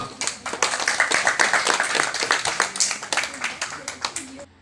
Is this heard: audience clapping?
yes